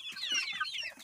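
Young chickens of three different ages and hens make a dense run of high peeping and clucking, close and continuous, with no voices.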